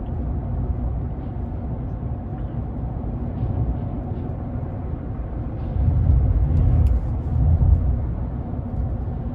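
A GMC Sierra 1500 AT4 pickup driving a curving road at around 45 mph gives a steady, low cabin rumble of road and engine noise, swelling slightly toward the end as it takes a bump.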